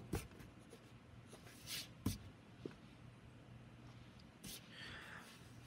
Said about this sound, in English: We're going to erase.